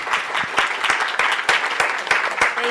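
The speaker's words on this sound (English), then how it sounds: "So please, a big round of applause." An audience claps a round of applause at the close of a roundtable discussion with judges. The clapping is dense and sustained, with sharp individual claps standing out over the steady patter.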